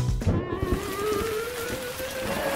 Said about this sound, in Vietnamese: Trời ơi, trời mưa rồi.